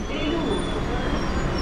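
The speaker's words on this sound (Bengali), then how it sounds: "বন্ধুরা আমাদের ট্রেন এখন এসে পৌঁছলো আমাদের জার্নির দ্বিতীয় স্টেশন বেলুড়ে।" An Arambagh local train pulls into Belur station with a steady, fairly loud broadband rumble and rattle of wheels and carriages that continues without a break.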